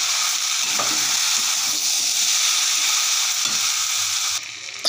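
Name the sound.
sautéing jackfruit with shrimp and potatoes in a pan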